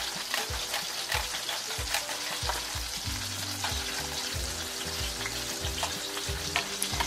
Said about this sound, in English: I'm using a cheese grater, by the way